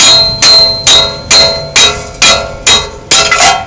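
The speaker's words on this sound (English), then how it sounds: "hit it with a hammer" A hammer strikes the rear wheel stud on a 1999–2004 Mustang GT eight times in an even rhythm, each loud metallic clang ringing briefly before the next blow.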